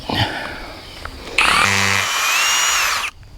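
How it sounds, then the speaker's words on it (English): Power drill boring a hole through a few-years-old wooden fence post, starting with short bursts and then a loud, sustained close-up whine as the bit bites into the wood, cutting off abruptly at the end. "So we're gonna start drilling this end out."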